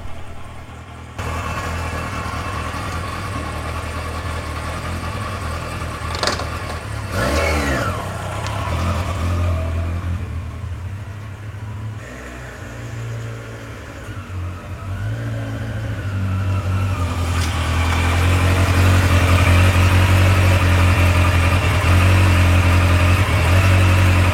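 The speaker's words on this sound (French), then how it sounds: "Vous mettez un petit coup d'accélérateur, et là le moteur il part dans tous les tours" A motorcycle engine idles steadily up close, then rises in pitch and loudness as it revs and holds at high speed, racing uncontrollably once throttled.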